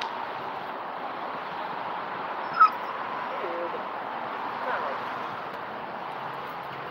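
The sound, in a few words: dog whimpering and yipping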